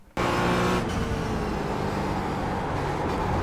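A Porsche 718 racing car in iRacing revs at full throttle, its engine cutting in abruptly with a loud, steady, buzzing drone that holds strong to the end, with no talk over it.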